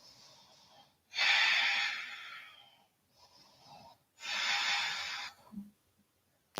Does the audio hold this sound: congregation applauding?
no